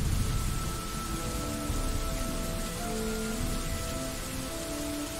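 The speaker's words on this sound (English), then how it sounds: "And a hissing rain sound." Steady hissing rain in the video game Dwarf Fortress pours continuously, fairly loud and close, with a faint tonal hum running underneath and no speech.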